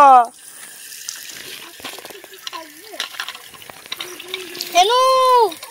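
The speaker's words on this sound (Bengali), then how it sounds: "প্রেসার কুকারটা ধুয়ে দে।" Water runs and splashes while a pressure cooker is washed in a home kitchen, a soft intermittent gush heard close up, with voices talking and a loud burst of sound near the end.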